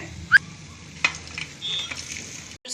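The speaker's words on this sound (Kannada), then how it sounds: "ಈ ಥರ ಗೋಲ್ಡನ್ ಬ್ರೌನ್ ಬರೋವರೆಗೂ ನಾವು ಡೀಪ್ ಫ್ರೈ ಮಾಡ್ಕೋಬೇಕು" Nimki, small maida flour biscuits, sizzle as they deep fry in hot oil, a soft steady bubbling under a few sharp clinks of a metal utensil against the pan.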